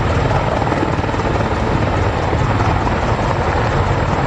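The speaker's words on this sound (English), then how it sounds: "Fantastic demonstration from the Chinook." Chinook helicopter in an air show flying display at Farnborough International Air Show, a loud, dense rotor roar and deep thudding blade beat held steady and close throughout.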